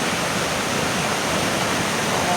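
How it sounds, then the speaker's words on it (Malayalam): Flooded Lakkidi river rushing hard, a dense, steady roar of fast water filling every moment, loud and close with no breaks or other sounds. "എന്താണ് ഇങ്ങനെ വെള്ളം കൂടിയിരിക്കുന്നത്?"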